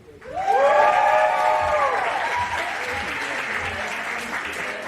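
Audience at a physical therapy white coat ceremony bursting into applause and cheering, a rising whoop followed by steady clapping that holds, then slowly thins out.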